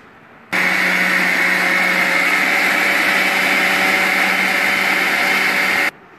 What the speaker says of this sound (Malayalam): ഇനി നല്ല പൾപ്പ് രൂപത്തിൽ നമുക്കിത് അരച്ചെടുക്കാം.